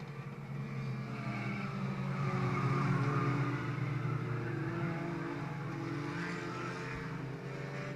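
Race cars on rain tires, running with wipers in a wet 10-lap semi-final qualifier, roar past in a continuous, moderately distant engine drone that swells and eases slightly as they circle the track.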